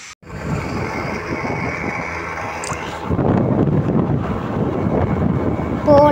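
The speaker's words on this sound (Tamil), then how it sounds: "காத்து சம்மா காத்து வண்டியே கீழே தள்ளிடும் போல" Strong wind roars against the microphone while riding a scooter, a continuous loud buffeting that swells even stronger partway through, with no voices.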